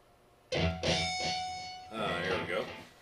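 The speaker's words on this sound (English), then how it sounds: "let's go ahead and get some distortion in there" A distorted, buzzy electric instrument tone starts abruptly and sustains with several gritty attacks, loud and close, with no talking.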